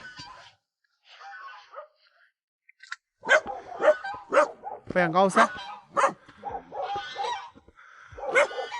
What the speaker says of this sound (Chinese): 哎呦，鹅叫，狗叫。